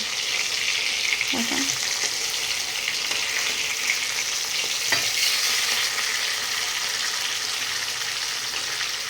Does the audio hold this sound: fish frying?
yes